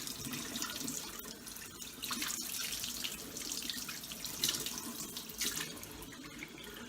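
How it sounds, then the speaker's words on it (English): Cold water runs steadily from a tap into a sink, a continuous close splashing rush with slight fluctuations throughout. "Cold water."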